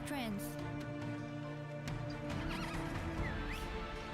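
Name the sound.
horse neighing and hooves clip-clopping, from a video game trailer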